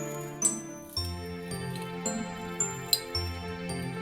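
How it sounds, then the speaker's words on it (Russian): A festive bell ornament hanging on a Christmas tree jingles in a few light, bright strikes over a sustained background of steady musical tones, each tinkle short and clear. "Повесим на нашу елку всевозможные какие-то колокольчики. Тут такой вот нарядный колокольчик."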